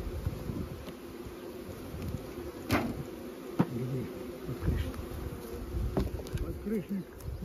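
Honeybees buzz around an apiary hive, a dense continuous hum close by with individual bees droning past, occasional faint clicks and no voices.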